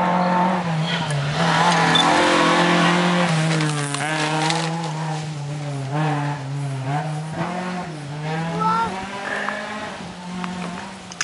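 A rally car roars past close by at a rally sprint, its engine rising and falling through gear changes as it passes, loud throughout.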